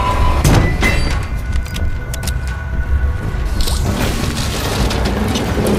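Catnap monster from the Poppy Playtime horror game, a loud, close burst of deep booming rumble with squelchy, dripping textures and sharp clicks layered over it, heard alone without talk.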